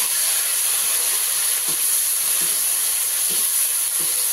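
Two medium-sized, very ripe chopped tomatoes sizzling in a hot pan, a steady loud hiss with faint periodic stirring clicks, no talk.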